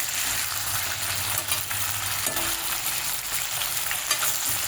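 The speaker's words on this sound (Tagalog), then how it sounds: "Prito natin hanggang ganito kulay niya." Food fries in a hot pan with a steady, close sizzle and crackle, continuous and fairly loud, with no talking over it.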